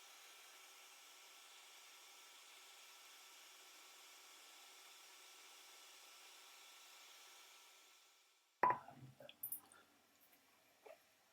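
Steady woodworking machine noise while square wooden pen blanks are cut to size, a continuous even whir that runs for several seconds and then winds down, followed by a few sharp knocks and clicks of handling.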